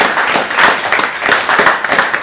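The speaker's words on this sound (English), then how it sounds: "Please clap for him." A classroom of students claps for a classmate, an uneven burst of hand claps with a few distinct slaps standing out, close and fairly loud, lasting a couple of seconds.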